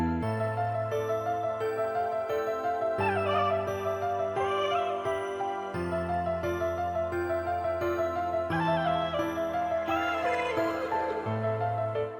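Chopped bass notes in a hard Detroit-style beat: short repeated low bass stabs in a bouncing pattern under looping melodic synth layers, steady and continuous with no drums yet.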